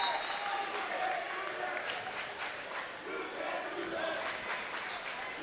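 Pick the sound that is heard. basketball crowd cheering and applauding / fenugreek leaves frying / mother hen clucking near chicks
basketball crowd cheering and applauding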